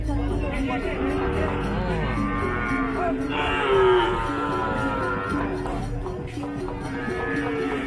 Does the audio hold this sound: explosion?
no